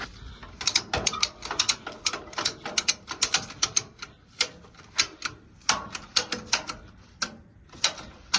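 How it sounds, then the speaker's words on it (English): A ratchet strap is cranked down to secure a Toyota GR86 on a car trailer, giving a rapid series of sharp, close mechanical clicks in uneven bursts with short pauses, and no voices. "now I'm just gonna crank down on the ratcheting mechanism"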